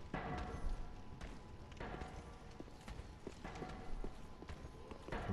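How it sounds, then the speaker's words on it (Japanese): Footsteps in Dark Souls III thud and clop in an uneven, repeated rhythm, moderately close and steady over several seconds, with no talk over them. "なんか音聞こえるな、足音。"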